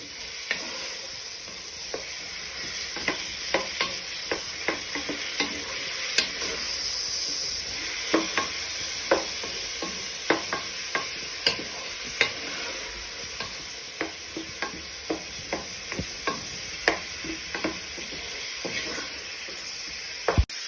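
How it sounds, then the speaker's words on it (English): Chopped tomatoes for prawn jambalaya sizzling in a pan, a steady soft hiss under regular spoon taps and scrapes from ongoing stirring, close and continuous with no speech. "Just give them a little stir first so they sweat down."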